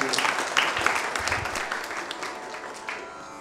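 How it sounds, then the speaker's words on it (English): A burst of applause from an audience at a classical music concert recital, loud at first and gradually fading away. "a big round of applause to all of you"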